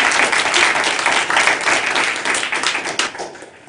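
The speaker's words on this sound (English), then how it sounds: "We'll just start the clap." Audience at a community town hall meeting claps steadily, a dense crowd applause that stays loud before gradually thinning out toward the end.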